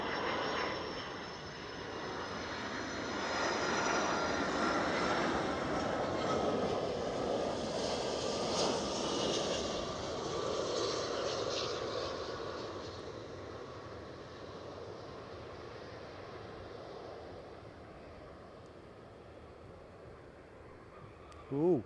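An airliner landing at Edinburgh airport, its broad engine roar swelling and then slowly fading as it touches down, with people chatting over it.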